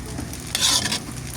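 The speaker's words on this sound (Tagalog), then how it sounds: "Ganito lang po ako magluto ng sinangag na kanin mga katropa." Garlic fried rice (sinangag) being stir-fried in a pan gives a steady close sizzle with a brighter burst of frying hiss as the rice is stirred midway, with no talking.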